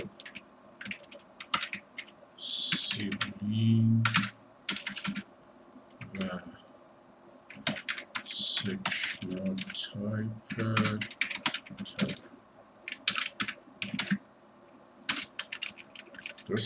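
Clicking keystrokes on a computer keyboard, rapid and uneven in bursts, close by, with someone talking over parts of it.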